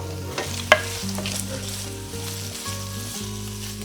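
Pork pieces being broken apart and stirred in a hot pan, with a steady close sizzle of frying meat, a sharp utensil scrape near the start and low hum from the stovetop throughout.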